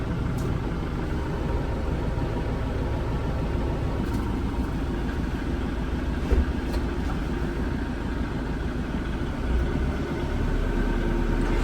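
A tractor engine runs steadily after being refuelled with about 40 liters from two jerry cans, a continuous low rumbling drone at constant level throughout, with no talk.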